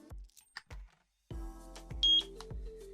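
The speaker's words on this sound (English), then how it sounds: "Press the sync button until you hear the beep." A Eufy security camera home base gives a short electronic syncing beep near the middle, set among a few low thumps and handling knocks.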